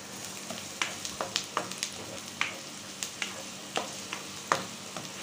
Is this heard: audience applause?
no